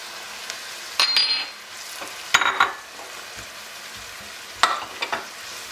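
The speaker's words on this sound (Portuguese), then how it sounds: "Deixamos refogar um pouquinho os pimentos para colocarmos o tomate." Peppers and tomatoes sauté in a pan for arroz de tamboril, with a steady soft sizzle and a few brief stirring scrapes and clinks of a utensil against the pan.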